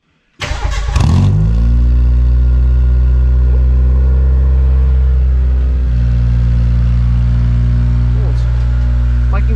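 A Mitsubishi Mirage rally project car with a new exhaust cold-starts inside a shed, a sharp crank catching into a loud, deep, rumbling idle that holds steady and rattles the surroundings, with people talking faintly underneath.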